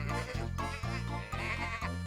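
Cartoon sheep bleat in a farmyard, about four wavering bleats following one another in quick succession, close and clear, with no talking over them.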